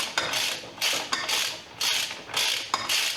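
Ratchet clicking in short bursts as the shock absorber bolts on a 125cc bobber motorcycle are undone, with several quick rhythmic cranks and brief pauses between them, close and fairly quiet.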